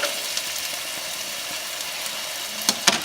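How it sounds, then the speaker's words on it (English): Steak frying in a pan while melted butter is spooned over it, a steady close sizzle throughout with a couple of sharp spitting crackles near the end. "we're going to spoon that butter back onto the steak"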